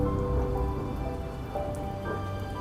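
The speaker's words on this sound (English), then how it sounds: "dark clouds rolled in, and a sudden downpour drenched the grounds" Sudden downpour drenching the grounds of a Sri Lankan estate bungalow, a dense, even hiss of rain with scattered drips, steady and close throughout.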